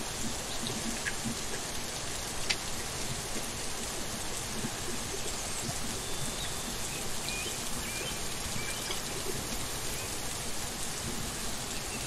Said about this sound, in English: I hear the thunder. And it's raining.